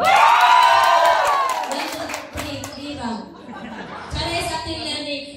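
An audience at an office Christmas party's best-dress contest claps and cheers loudly, with shouts and laughter rising at the start, easing off, then swelling again, with people talking throughout.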